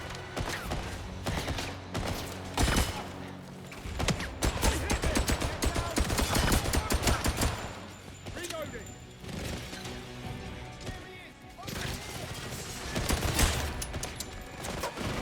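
Heavy gunfire in a James Bond 007 video game: sustained bursts of automatic shots with sharp cracks and clatter, loud and close, easing briefly and then returning, while a voice talks over it.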